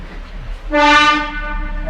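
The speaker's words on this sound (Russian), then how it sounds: "Повезет нас такой маленький электровоз." The horn of a small electric locomotive on a passenger line in Bakuriani, Georgia, sounds loudly with a rich harmonic tone, held for about a second, then fades over a steady rumble of railway noise.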